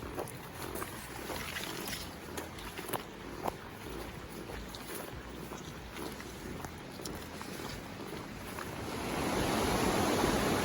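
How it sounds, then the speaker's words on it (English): Steady rushing water roars throughout, a broad turbulent wash of rapids nearby on the Wenaha River, Oregon, swelling louder near the end. "I just thought this was a cool looking rapid"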